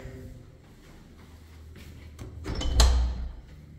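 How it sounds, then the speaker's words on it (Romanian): A door opening inside a spacious house rented as lodging, a soft creak and rattle building to a louder clunk near the end, close by, with no talk. "Deschid uși pe aici, poate dau peste careva."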